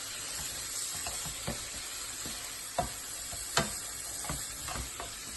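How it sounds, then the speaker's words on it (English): Seasoned octopus stew being stirred in a pot, with a spoon scraping and knocking in irregular strokes over a constant, close sizzle. "I'm going to mix it up."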